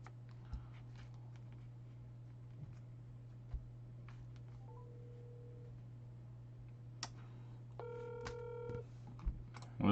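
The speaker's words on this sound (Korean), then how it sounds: "우리 제갈님한테 전화를 하고 있어요" A telephone dialing a call: a steady low dial tone with faint clicks, then a quick run of stacked keypad tones near the end, close and clear with no talking.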